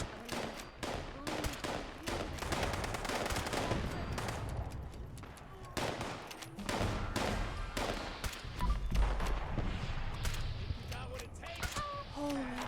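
Gunfire in Fallout, where rival groups of cultists fight each other: dense, overlapping bursts of shots and automatic fire crackle almost continuously, loud and close, with occasional heavier booms mixed in.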